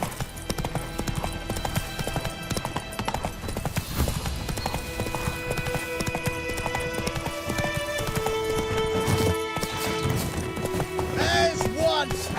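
Horse hooves clip-clopping at a gallop in the video game The Witcher 3: Wild Hunt, a steady rhythmic beat under game music and a voice.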